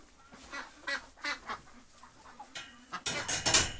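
A group of ducks, one of them struggling and resting a lot, gives soft scattered quacks at close range. The calls grow louder and busier toward the end.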